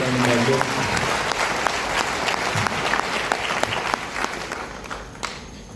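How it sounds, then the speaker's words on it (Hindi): A crowd at a DXN anniversary celebration bursts into loud, sustained applause with many hands clapping at once, the clapping gradually thinning toward the end. "एक जोरदार ताली उनके लिए होनी चाहिए।"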